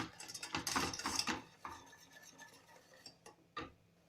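Spoon stirring sugar into a no-bake chocolate cake mixture in a bowl, with a busy burst of scraping and clinking early on, then quieter scrapes and a final sharp clink.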